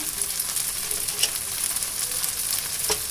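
A ragi dosa fries in oil on a pan, giving a steady, close, crackling sizzle that runs without a break and stops abruptly at the end.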